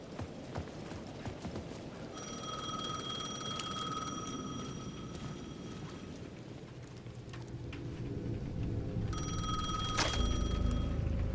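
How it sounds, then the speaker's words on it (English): A payphone bell rings in two bursts, each a steady trilling ring lasting a few seconds, over a busy background of clopping and ambient noise, in the video game Alan Wake 2. "The payphone at the edge of the plaza was ringing again."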